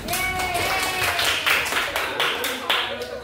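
A classroom of students applauding together at the end of a biology lesson, a brief burst of close, bright clapping that fades out over a few seconds with a voice talking over it.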